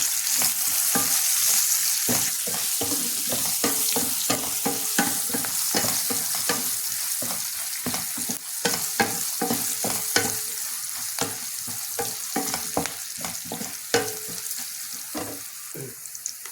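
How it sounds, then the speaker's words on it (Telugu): Vegetables sizzle and fry in a pan with turmeric and salt for a Telangana-style mixed veg pulusu, with steady close crackling and frequent stirring scrapes throughout, no talk. "ఇప్పుడు కొంచెం పసుపు వేస్తున్నాం, కొంచెం ఉప్పు వేస్తున్నాం వేగడానికి"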